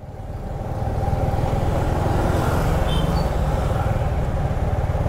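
Steady road traffic in Naga City, Philippines, with car and motorcycle engines rumbling close by, swelling in the first second and then holding at a constant loud level.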